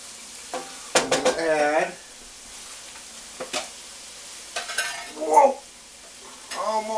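Hot dog pieces cooking in a pan make a soft, low sizzle that runs faintly beneath a person talking in short bursts, with occasional light clinks.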